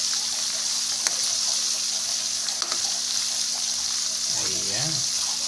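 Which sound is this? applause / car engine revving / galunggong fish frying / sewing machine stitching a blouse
galunggong fish frying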